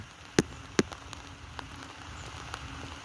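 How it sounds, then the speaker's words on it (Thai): Rain on a rain level of a video game, a steady soft patter on surfaces, broken early by two sharp, loud impacts. "ฝนตกไปปอยเลยปอยแรงด้วย"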